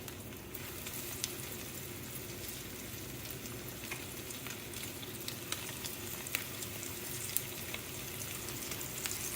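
American shad sizzle steadily in about a quarter inch of hot oil in a pan, a soft continuous crackling hiss with occasional pops, alone without talk.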